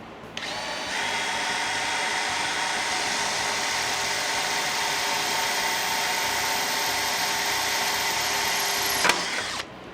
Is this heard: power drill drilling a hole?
yes